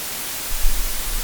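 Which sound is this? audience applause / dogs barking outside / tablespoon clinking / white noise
white noise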